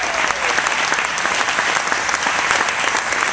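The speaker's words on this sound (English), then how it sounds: "I think that deserves a big round of applause" Sustained applause for a girls' state championship volleyball team, dense steady clapping with some crowd noise throughout, close and loud with no pauses.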